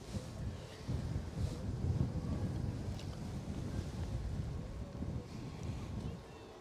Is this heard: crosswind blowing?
yes